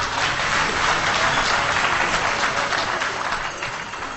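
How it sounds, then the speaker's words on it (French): An audience at a Côte d'Ivoire political gathering applauds its traditional chiefs: dense, sustained clapping from a large crowd that stays loud throughout and eases slightly at the end. "Donc je vous demande d'applaudir nos chefs."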